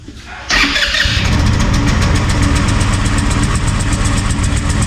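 An Italika DS 150 motorcycle with a carburetor fault starts and then runs loud and close, settling into a rough, steady idle with a fast, uneven pulsing beat.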